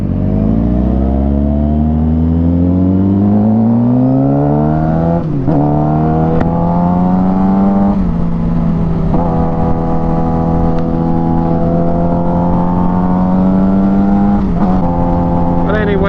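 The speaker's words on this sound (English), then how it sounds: "I'm going to be curious about how this bike sounds." Honda CBR motorcycle engine revving and riding, rising and falling loud engine pitch with shifts as the bike pulls away, close and continuous throughout.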